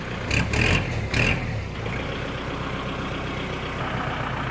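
A tall six-wheel truck's diesel engine revs in a couple of loud bursts, then settles into a steady, rumbling idle close by.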